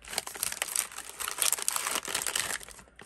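Plastic vermicelli packet ripped open at its easy-tear tab, a dense continuous crinkling and tearing rustle lasting a few seconds, close and loud, with no voices.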